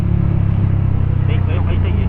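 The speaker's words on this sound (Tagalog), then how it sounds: "May iyak nga yung makina eh." Honda PCX160 scooter engine droning steadily while riding on uneven asphalt, with low rumble and road noise throughout and someone talking over it.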